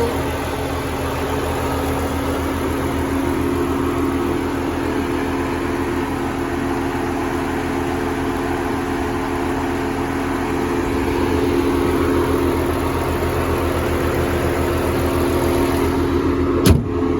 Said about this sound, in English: V6 engine.